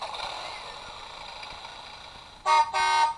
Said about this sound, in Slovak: Zatrúbiť.